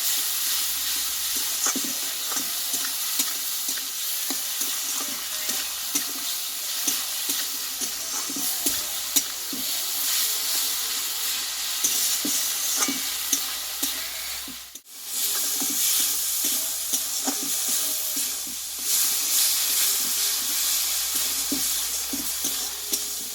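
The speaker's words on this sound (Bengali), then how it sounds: "মশলাটা ভালোভাবে একটু কষিয়ে নেবো" Spice masala with turmeric and salt is sautéed in a pan, giving a continuous close sizzle broken by frequent rhythmic scrapes of stirring, with a brief dip midway.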